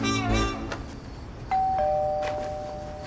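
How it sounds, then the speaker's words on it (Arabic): An apartment doorbell chimes a clear ding-dong, the lower second tone ringing out and slowly fading in a quiet room. "ده جرس الباب"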